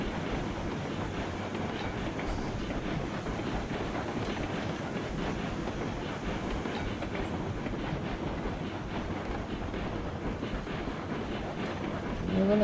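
Steam locomotive in the railroad game Railroads Online, climbing a hill with a rolling wheel rumble and faint clickety-clack on the rails, steady and continuous with no voices.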